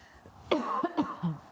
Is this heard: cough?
yes